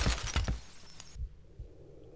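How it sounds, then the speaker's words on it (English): A window or mirror shatters in the horror game Cry of Fear, a burst of sharp breaking and crunching impacts in the first half second, then a few fainter thuds as the debris settles in a quiet room. "A window shattering, or perhaps a mirror."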